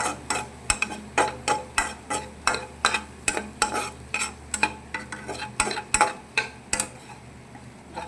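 Leafy greens stir-fry in a pan with a rhythmic series of sharp spatula scrapes and taps over a soft sizzle, regular strokes repeating about twice a second.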